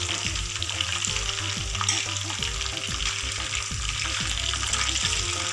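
Fish tikka fries in hot oil in a pan, giving a steady bubbling sizzle with faint stirring or scraping clicks. The sound is close, moderately quiet and continuous, with no voices.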